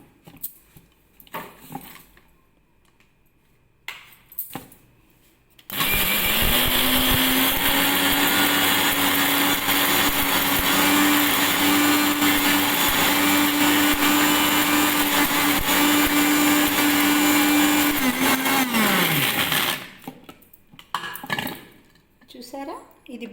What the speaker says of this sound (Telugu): కొత్తిమీర, తర్వాత అల్లం ముక్కలు వేసుకొని వీటన్నిటిని బాగా గ్రైండ్ చేసుకోవాలి